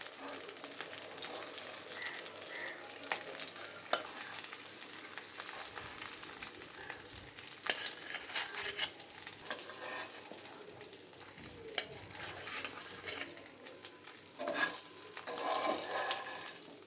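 Silver carp pieces fry in oil, a continuous, fairly quiet crackling sizzle with occasional clicks and spatula scrapes, building a little louder near the end.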